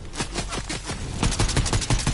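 Enemy gunfire in a video game fires as a steady run of sharp, loud shots that quicken into a tight volley in the second half.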